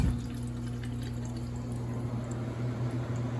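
An Elkay drinking fountain runs water into a bottle, giving a steady, fairly loud stream with a constant low hum from the unit underneath, uninterrupted and with no talk.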